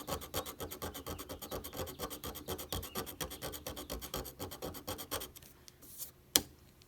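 Hand file rasping off excess solder blobs with quick, even back-and-forth strokes, close and fairly quiet. The strokes stop near the end, followed by a single sharp tap.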